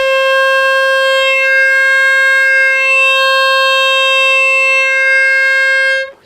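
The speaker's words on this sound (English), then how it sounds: "I'll maybe pick a 4 blow, and I'm going to slide this little slider, which effectively changes the volume of the air chamber." A single sustained 4-blow note on a TurboHarp harmonica, steady and loud for about six seconds as a sliding air chamber shifts its timbre, then cutting off.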